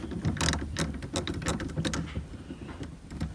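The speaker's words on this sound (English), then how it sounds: "So let me bolt this down." A shift box is bolted down inside a car during a K-swap, giving close, quiet mechanical rattles and clicks of tools and metal parts in an irregular patter.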